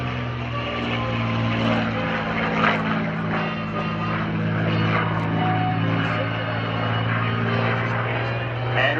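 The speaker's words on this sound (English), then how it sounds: "that lovely P-51 Mustang" A P-51 Mustang fighter plane flies past at an air show, its steady droning propeller engine holding a deep sustained hum for the whole stretch, with a commentator's voice over the public address running beneath it.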